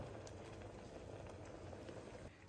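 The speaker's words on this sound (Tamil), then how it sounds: "தக்காளி கெச்சப் கொதிச்சுட்டு இருக்கு." Tomato ketchup bubbles and simmers in a pan with a faint, steady boiling hiss and soft pops close by.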